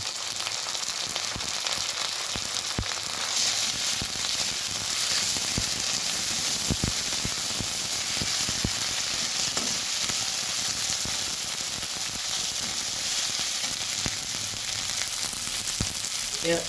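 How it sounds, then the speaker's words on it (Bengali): Onions frying in hot oil with a spoonful of ginger paste just added, giving a steady, dense sizzle that stays loud and even throughout, with a few faint clicks of stirring and no talking. "পেঁয়াজটা কিছুটা ভাজা হয়েছে এবার দিয়ে দিচ্ছি আদা বাটা"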